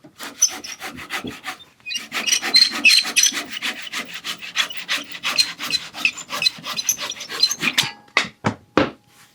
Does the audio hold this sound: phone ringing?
no